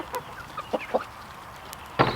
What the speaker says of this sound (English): You chickens ready to get out?